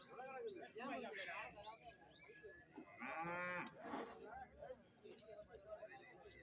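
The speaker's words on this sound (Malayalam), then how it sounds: "നല്ല പോത്തുകുട്ടികളുണ്ട് എരുമയുണ്ട് വലിയ എരുമകളൊക്കെ" A water buffalo lets out one loud, drawn-out moo nearby at a cattle market, with people talking and livestock-market bustle around it.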